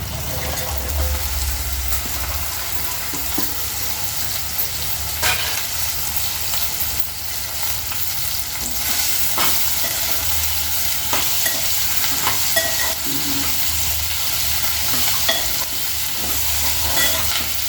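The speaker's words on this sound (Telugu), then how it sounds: "ఇప్పుడు బెండకాయలు మనం వేపుకుంటాం కదా ఆయిల్లో" Okra frying in oil in a pan, a loud, steady broadband sizzle close by, with occasional scraping stirs and small clicks of a utensil throughout, no voices.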